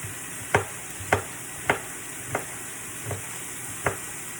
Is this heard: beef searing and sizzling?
yes